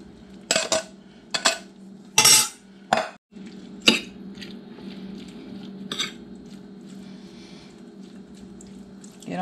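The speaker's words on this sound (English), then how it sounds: "I'm going to stir in the mushrooms" Meat and mushrooms are stirred in a pan for a manicotti casserole, with a few sharp spoon scrapes and clinks against the pan early on, then softer wet stirring and scraping at a moderate, close distance.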